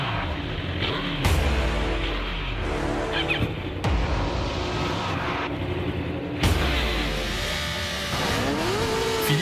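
Superbike race start with a Honda CBR 1000, Yamaha R1, Kawasaki and Suzuki, loud engines revving hard and roaring away in overlapping surges, pitch sweeping up with each gear, with no talk over it.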